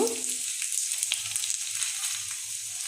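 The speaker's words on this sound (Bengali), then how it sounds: "এখন আমি এগুলি একটা একটা করে ভেজে নেব।" Papad pieces frying one at a time in a small amount of oil, giving a steady close sizzle with light crackling throughout and no talk.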